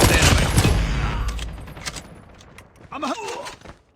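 A Type25 rifle fires in a military video game, a loud burst of close gunshots at the start fading into a quieter tail, followed by a voice speaking.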